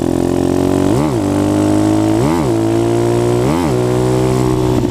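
A motorcycle engine held at a steady loud drone in fourth gear, revved sharply three times in an even rhythm with the pitch surging and falling back each time, close and with no talking.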